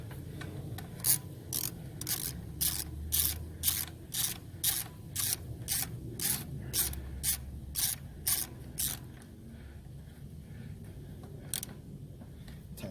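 A ratchet clicks rapidly and evenly while tightening a spark plug on an Acura TL, around twenty crisp close clicks in a steady rhythm that slows and stops near the end, with no talking.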